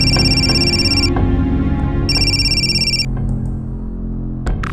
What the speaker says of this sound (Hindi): आ गया फिर से फोन।